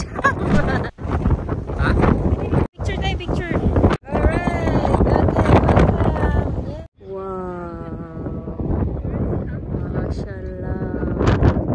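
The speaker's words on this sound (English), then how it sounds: "Sobrang hangin." Strong, gusting wind at Nordkapp, Norway, roaring and buffeting the microphone with loud bursts and brief lulls, while people talk throughout.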